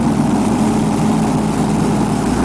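The Makin Bacon Special pulling tractor, driven by five 524 cubic inch V8 Rodeck engines, rumbles with a steady, loud, low droning roar that holds constant throughout, with no voices.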